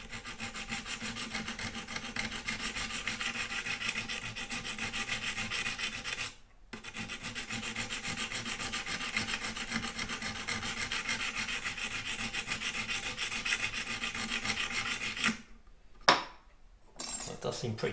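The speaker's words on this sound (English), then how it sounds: "we've got these abrasive tools here, and it's a case of working first with the coarse one and then finish off with the finer one." Coarse abrasive tool filing along a guitar neck, a steady, continuous close rasping scrape sustained for many seconds, with a brief pause partway through and a short break near the end.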